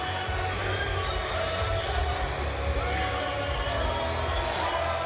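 A crowd at a wrestling event keeps up a dense, steady roar of cheering and noise from start to end, with no clear breaks.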